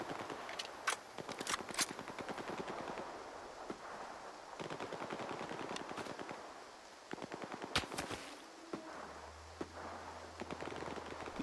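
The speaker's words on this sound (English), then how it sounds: "Why you shoot at me?" Rapid bursts of automatic gunfire in the video game S.T.A.L.K.E.R. 2 on PS5, loud sharp volleys repeating in clusters across the whole stretch, with brief lulls between salvos and a low droning hum near the end.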